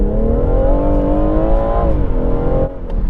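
A 3-litre BMW M140i accelerating hard in Sport Plus mode, the engine note climbing steadily in pitch through a gear, loud and close, with a brief drop near the end.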